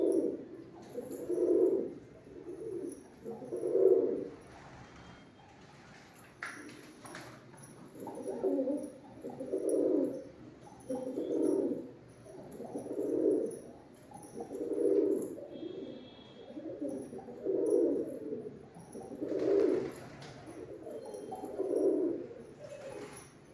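Madrasi pigeons coo in a steady rhythm, a soft repeated series of low throaty calls about every second or so, close but fairly quiet, with faint background rustles and no talk.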